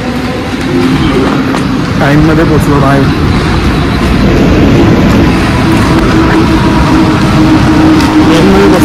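Mumbai local train running toward Wadala station, a loud steady rumble and clatter of the carriage in motion heard from inside, with someone talking over it.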